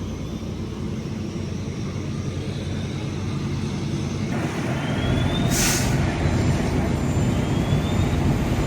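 Two fire department ladder trucks rumble nearby with a broad, steady engine drone, joined midway by a short hissing burst like an air brake releasing.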